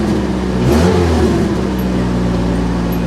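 A C4 Corvette engine hangs at high revs and won't settle to idle, a steady loud mid-pitched drone with a slight surge early on, close and continuous throughout.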